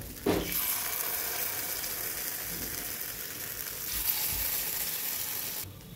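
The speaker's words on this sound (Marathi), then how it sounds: "यामध्ये असं आता थोडं थोडं बॅटर टाकत जायचं।" Batter for fasting-day appe sizzles in an oiled appe pan, an even, close, continuous hiss of frying with a brief clink at the start and no talking.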